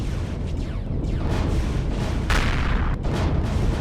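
Heavy ship weapons fire at an enemy base turret in the space game Empyrion Galactic Survival, a dense continuous barrage of booming blasts and explosions with sharper bursts standing out, loud and sustained with no talk.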